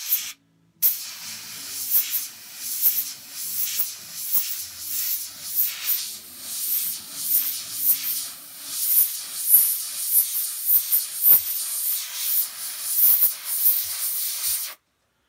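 An airbrush sprays brown paint onto the flaxen mane of a model horse, a steady close airy hiss with small pulses that runs almost unbroken for about fourteen seconds.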